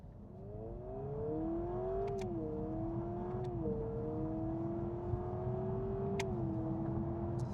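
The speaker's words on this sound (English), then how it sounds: "Left foot on the brake, right foot on the accelerator. Let's go." A 2026 Honda Prelude accelerates hard from a standing launch, its engine note climbing steadily in pitch with a brief dip at a shift, loud and continuous from the cabin with no talk.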